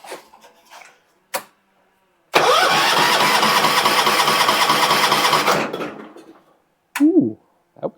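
A John Deere 300 lawn tractor that sat unused for over a year cranks and catches, its engine roaring loud and close for about three seconds before cutting out, followed by brief silence and a short voice.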